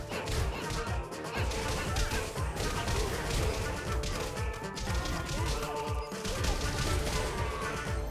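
In the Pit People video game, a dynamite stick explodes amid dense, continuous battle noise, with crashing impacts and bursts layered over busy game sound effects.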